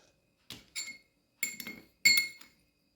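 A spoon taps against a small glass four times while dissolving dyed salt in water, bright ringing clinks spaced out over a few seconds in a quiet room.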